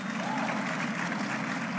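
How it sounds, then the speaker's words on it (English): A large conference audience at CPAC claps in a short, full burst of steady applause, with a murmur of crowd voices mixed in. "Give yourself a round of applause"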